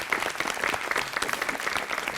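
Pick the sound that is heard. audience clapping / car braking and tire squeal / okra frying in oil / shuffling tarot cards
audience clapping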